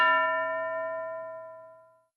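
A single bell strike in a classroom gives a clear, bright metallic ding that rings out and fades away smoothly over about two seconds.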